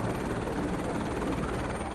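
A helicopter on the Jammu to Vaishno Devi shuttle service gives a steady, dense rotor and engine roar that stays loud and unbroken throughout, with no voices.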